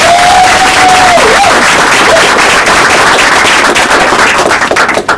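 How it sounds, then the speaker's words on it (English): An audience at an evening book launch in a bookstore claps loudly and continuously, a dense burst of applause with a brief whistle at the start, fading slightly at the end. "Please give Moses another round of applause."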